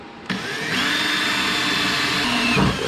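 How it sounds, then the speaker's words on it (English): A drill bit bores holes through a Mazda engine's valve cover during a K-swap catch can install, a steady, close, loud motor whine with a high grinding tone running unbroken for over two seconds. "I'm going to go ahead and drill it out with this drill bit"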